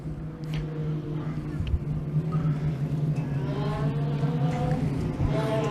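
Race cars circling a club racing track, a steady engine drone with rising revs from passing cars, moderately loud, under continuous commentary.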